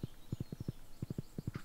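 Quick, hollow hoof clops of a horse in Stardew Valley in two short bursts, faint and evenly spaced, with no talking.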